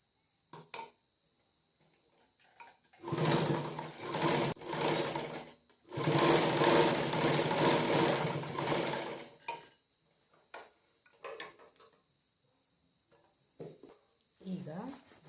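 Sewing machine stitching a fabric return-gift carry bag, two loud bursts of rapid mechanical whirring separated by a brief pause, with quieter handling clicks around them.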